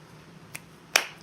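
A single crisp finger snap rings out close and clear, preceded by a fainter click, against a quiet background at a live music stream.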